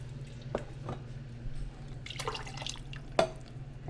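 Water rinsed from cans of no-salt-added tomato sauce is poured into a pot of creamy vegetarian chili, giving a few brief, soft splashes and drips over a steady low kitchen hum.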